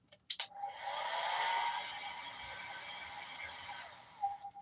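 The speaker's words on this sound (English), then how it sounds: "When am I ever going to remember to get a new freaking hair dryer?" A hair dryer blows steadily at close range with a broad, continuous whoosh, starting abruptly after a couple of clicks and cutting off near the end, with no talking.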